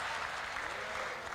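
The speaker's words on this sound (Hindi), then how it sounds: "अब ताली तो बजा दी" An audience at a comedy show breaks into a dense burst of applause, loud and even for just over a second with no voices on top.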